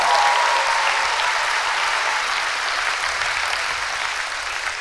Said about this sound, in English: Can we have another round of applause for the band